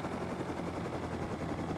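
Helicopter in the Rust video game, a steady dense rotor and engine roar that holds at an even loudness throughout with no talk over it.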